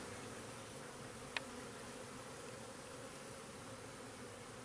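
Honey bees hum in a continuous faint, even buzz during a hive inspection, with one brief sharp click partway through.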